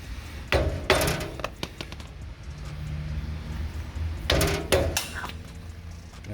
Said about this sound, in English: What you gotta do is you gotta tap off this bearing buddy.